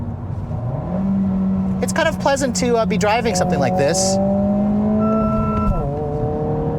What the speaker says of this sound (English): You can hear the sound that the engine makes is augmented. It's a little bit louder in sport mode like this